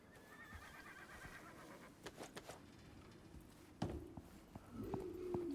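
A horse in the survival video game Icarus whinnies and clops its hooves, with faint scattered hoof steps leading to two short neighs near the end, all fairly quiet.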